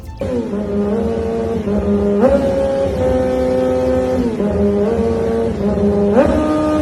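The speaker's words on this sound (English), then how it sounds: "We got an R6 singing happy birthday." A Yamaha R6 sport bike engine revs in held, stepped tones that trace out the Happy Birthday melody, loud and close with clear pitch jumps between sustained notes, no talking.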